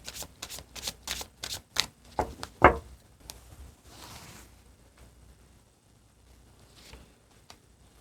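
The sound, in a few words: tarot cards being shuffled and drawn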